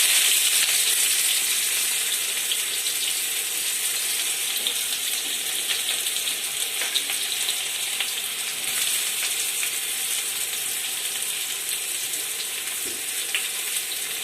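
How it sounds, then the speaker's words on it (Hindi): Chopped onion sizzles in oil in a pan while rajma is being cooked, a steady, bright frying hiss that keeps going evenly throughout, close up, with no voices. "अब इसको हम अच्छी तरह से भून लेंगे।"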